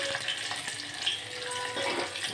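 Tomatoes dropped into a hot tempering of garlic and green chili for dal, a loud steady sizzle and crackle of frying with stirring throughout, close and without talk.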